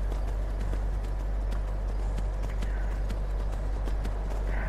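Horse hooves galloping uphill in the Skyrim video game on PS4, a steady rapid clip-clop under a constant low rumble, fairly close and continuous throughout with no talk.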